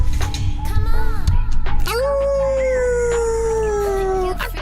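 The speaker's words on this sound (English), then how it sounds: "You freaky dog." A dog howls loudly and close by, starting with a few short yips and whines, then holding one long, drawn-out wavering howl that slowly falls in pitch before stopping abruptly.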